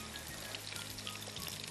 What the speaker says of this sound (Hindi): थोड़ा सा मैं इसमें पानी डालूँ।